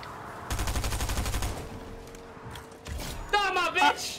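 Rapid automatic gunfire in a Fortnite match, one steady burst of about a second followed by scattered shots, loud and near, with excited players talking over it.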